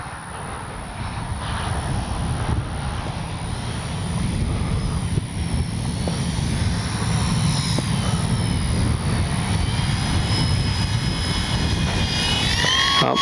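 An Arrows F4U Corsair RC warbird drones steadily overhead in flight, its electric motor giving a continuous whine over a broad rushing roar that swells slightly as the plane passes.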